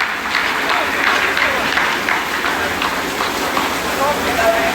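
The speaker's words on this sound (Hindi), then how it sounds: "आप इस तालियों के गड़गड़ाहट को सुन सकते हैं" Scientists in the Chandrayaan-3 mission control room clap together in a dense, sustained round of applause that fills the room.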